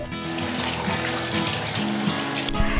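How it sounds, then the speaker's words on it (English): Hands washed under a running tap, with a steady close rush of water splashing into a sink, continuous and fairly loud throughout, and no voices. "we have to make sure we wash our hands because it is flu season"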